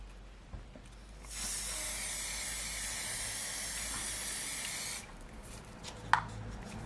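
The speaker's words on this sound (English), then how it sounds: "So they're just acrylic spray paints." A steady hiss of acrylic spray paint from an aerosol can, one continuous burst lasting a few seconds, close by, then a small click as it stops.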